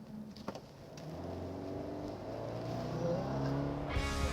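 A 2019 Subaru Forester with a CVT accelerates at full throttle, its engine drone building into a steady, rising hum heard from inside the car without any talking.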